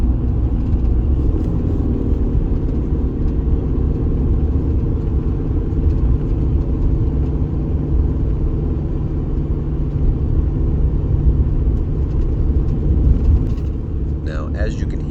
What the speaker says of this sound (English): I'll let you hear the motor right here so you can hear what it sounds like when it's under load.